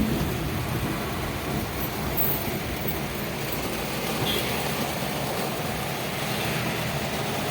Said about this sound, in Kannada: ಸಕ್ಕತ್ತಾಗಿ ಮಳೆ ಬರ್ತಾ ಉಂಟು.